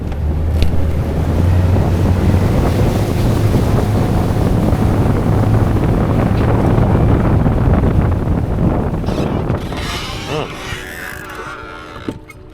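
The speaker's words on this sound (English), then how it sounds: "It's windy today." Wind roars steadily across a fishing boat on open water while anglers chase muskie and smallmouth, heavy buffeting on the microphone throughout before easing near the end.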